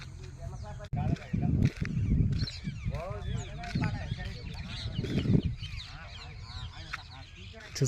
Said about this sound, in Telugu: చూస్తున్నారు కదా ఫ్రెండ్స్, పక్షుల కిలకిల సవర్లు, ముఖ్యంగా చిలుకలు.